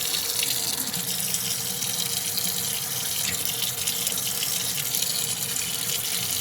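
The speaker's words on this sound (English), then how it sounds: "flip this thing upside down and just basically pour some water on it here from the tap" Tap water pours steadily onto an upside-down action camera, a continuous, fairly loud splashing rush with no pauses.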